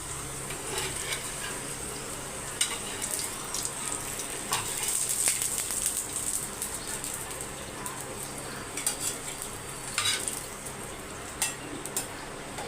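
Potatoes frying in a pan of oil give a steady, moderately loud crackling hiss, with a few light clinks of a utensil against the pan scattered through it.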